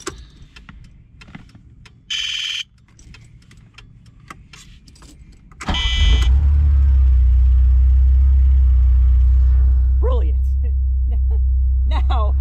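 A 1980 Ferrari 308 GTSi starting up and settling into a steady fast-idle warm-up, a loud close engine drone after keys jangle and some handling noises, with a voice speaking over the running engine.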